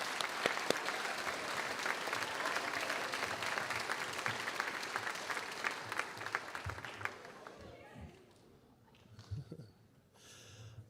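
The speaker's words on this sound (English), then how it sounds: "let's give them a round of applause" A crowd at a university closing ceremony applauds in a dense, loud wash of clapping that thins and fades after several seconds into quieter room sound with a few scattered noises.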